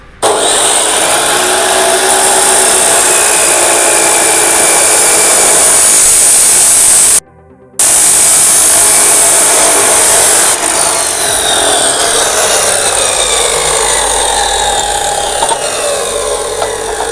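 Cut-off machine cutting material: a loud, close, high-pitched whining grind runs steadily, breaks off for a moment, then resumes and fades slightly toward the end.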